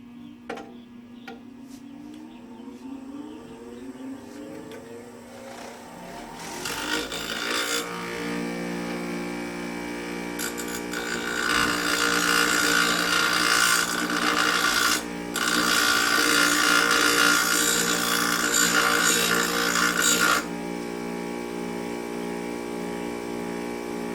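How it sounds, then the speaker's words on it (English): A bench grinder runs up and then bites into metal on its coarse wheel, giving a steady mechanical whine with bursts of harsh, bright grinding that rise and fall over about fifteen seconds, close and fairly loud, with no talk. "So I'm going to start with the coarse wheel and try and grind away some of this material"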